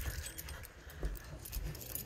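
Keys for a fire alarm pull station jangle and clink in a quick scattered rattle, close by over a low rumbling background.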